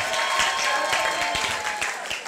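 An audience applauds after a speech, a dense, steady patter of many hands clapping together, sustained and fairly close with no voices over it.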